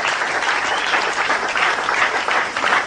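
A church congregation claps loudly and continuously, a dense wash of many hands with no break, as the crowd cheers on in worship.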